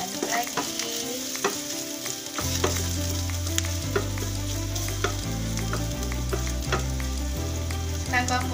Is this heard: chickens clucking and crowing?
no